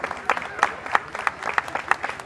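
Festival audience at an outdoor jazz event applauding, with moderately loud clapping and strong rhythmic hand claps standing out about every third of a second over a continuous crowd bed.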